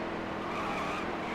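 A race car in NASCAR Heat 3 on the Bank of America ROVAL slides hard along the wall, a steady loud scraping hiss blended with engine roar, continuous and close, without talk.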